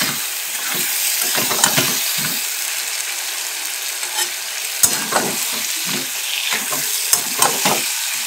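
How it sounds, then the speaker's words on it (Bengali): Chicken and potatoes stir-fried in a pan for chicken kosha, a loud continuous sizzle broken by irregular scraping and clattering strokes of a spatula, close up. "তাই একটু বেশি করে আলু দিয়ে দিলাম, দিয়ে এবারে ভালো করে কষিয়ে নেব।"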